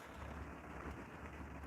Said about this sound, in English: I am stuck in the car at this point because it is raining quite heavily at the moment